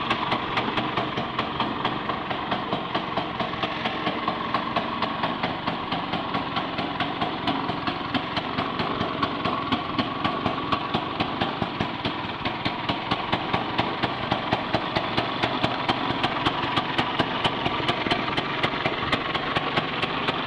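A 1965 Vespa SS180 Super Sport scooter engine runs steadily at idle, a close, even two-stroke putter with rapid regular pulses lasting the whole stretch.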